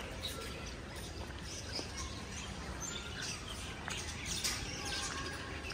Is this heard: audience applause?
no